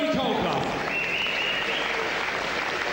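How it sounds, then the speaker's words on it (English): A boxing crowd applauds losing boxer Tony Colclough after a Mark Delaney vs Tony Colclough bout, dense continuous clapping for a few seconds with a voice talking over it. "a nice sporting round of applause"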